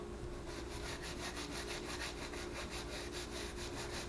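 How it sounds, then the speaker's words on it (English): An old bicycle tire is scrubbed with steady back-and-forth strokes, a quiet, even rasping rub repeating in a brisk rhythm with no voices. "I'm gonna keep scrubbing."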